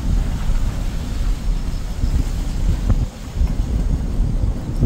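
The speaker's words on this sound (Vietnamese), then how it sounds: "Nước suối to đấy." A swollen mountain stream in flood near Cao Bồ, Vietnam, roars as a dense continuous rush of water, loud and steady throughout with no pauses.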